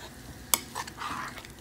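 A spoon stirs Jamaican rundown, coconut milk boiling in a pot, with one sharp clink against the pot followed by soft scraping and bubbling sizzle.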